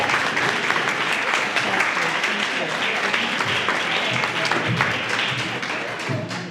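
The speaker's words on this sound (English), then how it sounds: "I just want everyone to stand up and give you a round of applause" Conference audience giving a standing round of applause, loud continuous clapping filling the room for several seconds with some voices mixed in, tapering slightly at the end.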